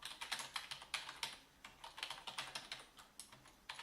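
Rapid typing on a physical keyboard plugged into a tablet through an OTG adapter, a close, quiet run of crisp key clicks with an uneven rhythm and no talking.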